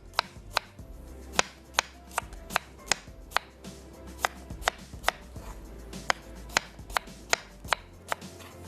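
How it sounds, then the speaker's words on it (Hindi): A knife cuts a cucumber into thin slices on a board, giving crisp, evenly spaced chopping taps, about two per second, close and clear with no talk. "एक अदद कुकुम्बर हम लेंगे और इसको हमने बारीक स्लाइसिस, थिन स्लाइसिस में काट लेना है।"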